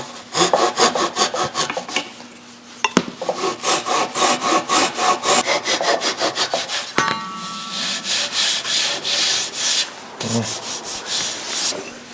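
Sandpaper rubs back and forth across a wooden apron board for a dining table in quick, even rhythmic strokes, close and fairly loud, with a couple of brief pauses and a faint knock.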